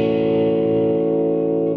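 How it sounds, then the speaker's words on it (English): Electric guitar played at full guitar volume through a restored Decca RP 205 amplifier with a single EL80 push-pull output stage, its power tube distorting at low volume; one sustained, buzzing overdriven chord rings steadily and fades at the end. "what you get is it's a tube distortion, and it's happening on the power tube at low volumes"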